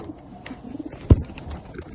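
Soft, low pigeon cooing with one short thump in the middle, heard close by in a quiet setting.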